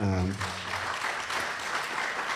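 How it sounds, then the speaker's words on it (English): A brief voice opens the moment, then an audience at an inaugural academic conference on the role of religion breaks into sustained, even applause that fills the room. "So I would like those here present to give a big clap to"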